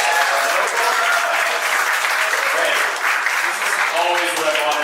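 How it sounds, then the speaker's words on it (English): Audience applause fills a Las Vegas stand-up comedy show, dense steady clapping close to the microphone for several seconds, with cheers and voices mixed in. "Clap it up if you're a local"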